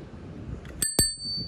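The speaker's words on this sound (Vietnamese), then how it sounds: "chuông" The bicycle bell on a used Japanese Yamaha 36V electric-assist bicycle rings twice in quick succession, close and bright, with a clear metallic ring lingering after a quiet start.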